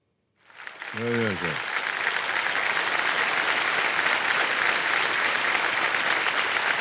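A studio audience on the quiz show Kaun Banega Crorepati bursts into loud, sustained applause that swells quickly and keeps going, with a brief voice heard near the start.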